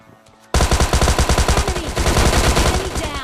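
Rapid automatic gunfire in the PUBG battle royale game erupts after a brief quiet moment, a loud, continuous rattle of closely spaced shots.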